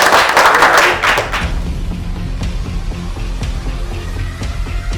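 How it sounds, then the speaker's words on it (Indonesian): An audience at the Barber Battle Indonesia Season 2 grand final gives a short burst of clapping that dies away after about a second, leaving a low room rumble. "Beri tepuk tangan."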